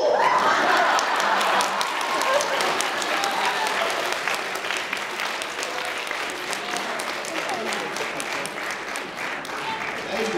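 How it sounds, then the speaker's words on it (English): Applause from a convention panel audience at Kumoricon 2010, a dense steady patter of many hands filling the room, with scattered chuckles and voices mixed in, holding fairly even throughout before tapering slightly. "That wasn't a big enough applause for me to stand up"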